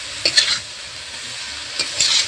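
Khesari greens with roasted cumin powder fry in a pan while being stirred. A soft background sizzle is broken by a few sharp, close scrapes of the spoon.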